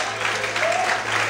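A church congregation applauding during an evening worship service, a brief burst of dense clapping in a reverberant room over a low steady hum.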